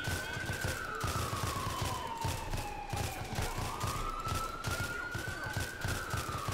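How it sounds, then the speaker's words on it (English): Video game gunfire in the LCPDFR police mod fires as constant rapid bursts under a wailing police siren that rises and falls, fairly faint and continuous throughout. "I like the Battlefield 3 gun sounds."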